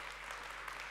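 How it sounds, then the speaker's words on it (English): A church congregation claps during an English sermon, a faint, steady wash of applause heard alone, without talk. "You should be clapping more heavily for your children here."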